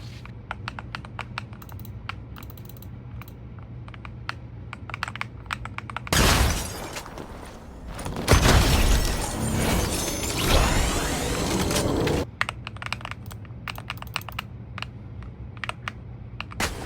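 Typing on an MCHOSE Ace 68 Turbo mechanical keyboard, with rapid close clicky keystrokes in a quick irregular rhythm, interrupted midway by a loud burst of broadband noise before the key clatter resumes.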